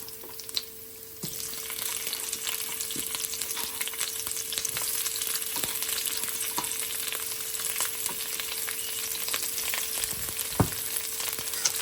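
Onion drops into hot oil in a pan alongside garlic and chicken feet, setting off a steady close sizzle with occasional sharp clicks of stirring, no talking.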